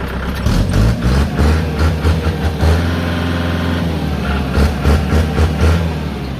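A Kubota L4708 tractor's diesel engine idles nearby with a loud, throaty aftermarket exhaust, chugging in a steady rhythmic beat throughout.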